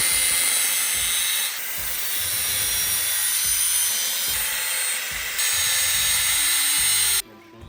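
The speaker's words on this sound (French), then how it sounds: "on va aller tracer, avec la meuleuse encore, grossièrement, la courbe de notre tuyau" An angle grinder cuts roughly along the curve of a metal tube during a welding customisation of a Citycoco electric scooter, a loud sustained whine with brief drops and restarts before it cuts off abruptly near the end.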